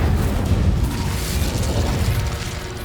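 An Incendio fire spell is cast in Hogwarts Legacy, releasing a dense, rumbling whoosh of flame. It stays loud and heavy at the low end for the whole stretch, with no voices over it.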